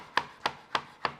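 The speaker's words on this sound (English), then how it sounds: "I'm going to turn them around and crisscross them and cut them" A knife chops through canned salmon slices in four evenly spaced, crisp strokes on a board, close and clear with no talking.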